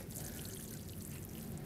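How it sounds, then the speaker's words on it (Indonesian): Water poured from about four liters onto soil in a garden during the rainy season to soak it, making a steady, close splashing pour that runs without a break for the whole stretch, with no talk. "Dengan 4 liter air kita kocok aja semua ini sampai basah. Siram jenuh."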